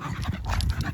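Close, fast rhythmic panting from a dog, a quick string of breathy huffs lasting about a second.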